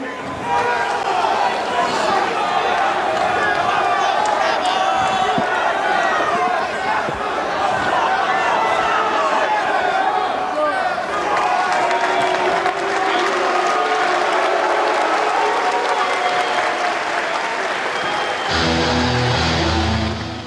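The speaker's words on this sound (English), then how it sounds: "fans booing the good sportsmanship" Wrestling arena crowd at a Taz vs Sabu match, a loud continuous roar of fans booing and jeering that runs the whole time, with announcers talking over it.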